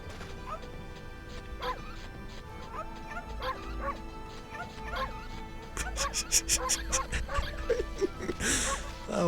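Dog barks, yips and whimpers from the Okami video game, a series of short repeated calls building toward a crash-like burst near the end, with background game sounds.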